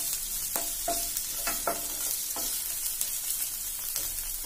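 Capsicum and boiled green peas stir-fried over a high flame for paneer bhurji, giving a steady sizzle broken by several scraping spatula strokes, close and alone.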